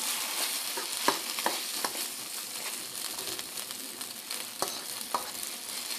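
Garlic, chili pepper and onion sizzle gently in a pan as they fry, a steady soft crackle broken by occasional stirring scrapes and taps.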